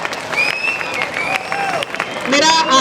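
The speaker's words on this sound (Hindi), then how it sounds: "जोरदार जोरदार तालियां हो जाए।" Students and teachers at a college contest event applaud loudly, with steady crowd clapping running throughout while voices carry over it.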